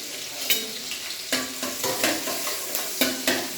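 Finely chopped garlic fries in a pan, sizzling steadily up close, broken by several scraping stirs at irregular intervals.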